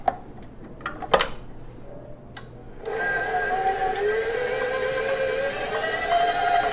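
A stand mixer running on speed 3 for an intensive four-minute mix of very wet ciabatta dough, a steady close whirring motor drone with rhythmic slapping, preceded by a few scattered clicks and knocks.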